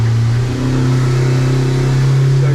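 A Yamaha F90 outboard on a 2025 Hewescraft 180 Sportsman boat holds a steady, loud drone as it gets a touch more throttle, with the pitch creeping upward during the on-water run.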